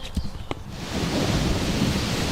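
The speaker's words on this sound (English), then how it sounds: "it's pissing rain" Heavy rain pouring down outdoors at a primitive bushcraft campsite, a dense steady hiss of drops that swells after a couple of brief knocks at the start.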